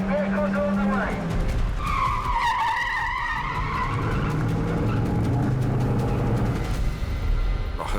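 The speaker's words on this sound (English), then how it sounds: "I heard the rumour that they wanted to do a car chase here." Cars skid with loud squealing tires during a staged film car chase on the Las Vegas Strip, sweeping pitched screeches over constant engine and crowd noise, with voices faintly under it.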